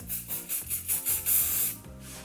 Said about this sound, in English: And then you can just spray a little bit of hairspray.